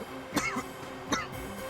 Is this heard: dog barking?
no